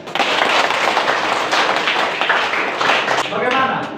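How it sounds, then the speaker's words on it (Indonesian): Students in a classroom clap together in a steady, dense burst that fills the space, with a voice rising briefly near the end. "Oke, tepuk tangan."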